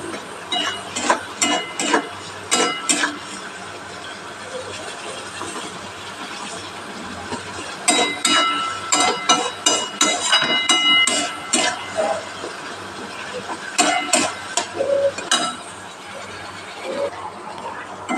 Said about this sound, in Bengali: যতক্ষণ না আমার ধারে ধারে তেল বেরোচ্ছে ততক্ষণ আমি এটা কষিয়ে নেব।